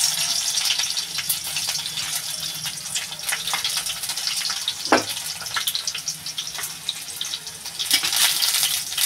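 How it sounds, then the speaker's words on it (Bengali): Garlic dropped into hot oil with nigella seeds for a Bengali greens dish, giving a loud, steady close-up sizzle with dense crackling throughout. "এবার আমি রসুনটা দিয়ে দেবো।"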